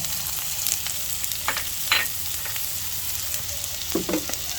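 Onion, beef and hotdog sauté in a pan with a close, steady sizzle and occasional scrapes and taps of a utensil stirring the food, and no voices.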